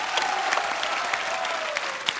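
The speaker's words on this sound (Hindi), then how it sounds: "यामी के लिए भी जोरदार तालियां" Studio audience on a Hindi TV comedy talk show breaks into steady, dense applause that fills the room for a couple of seconds, with a faint sustained tone running beneath the clapping.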